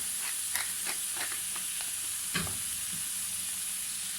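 Vegetables cooking with seasoned meat in a pan on low heat crackle softly, with a series of light spatula scrapes and taps at an uneven pace over a quiet, steady sizzle.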